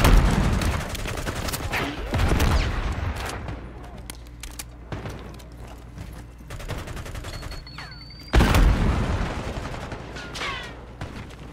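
Gunfire and a Semtex grenade explosion in a video game, with loud rapid bursts near the start, around two seconds, and a heavy blast-like hit near eight seconds over a steady background rumble.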